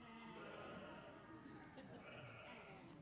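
A church congregation imitates sheep, with many voices baaing together in a loud, overlapping, bleating chorus that carries on for several seconds.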